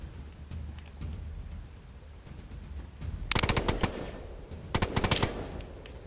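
Gunfire in the video game DayZ on PlayStation 4: two sharp bursts of several rapid shots over a low background rumble, loud and close, separated by about a second of quieter ambience.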